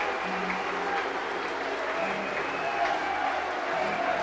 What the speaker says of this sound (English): Still Rovers fans are staying here in numbers and cheer off their heroes